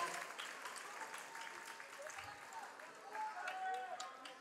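Audience at a 2012 ballroom dance competition, an open amateur Latin final, applauding and cheering between dances: sustained dense clapping with scattered whoops, steady and fairly distant, filling the whole stretch.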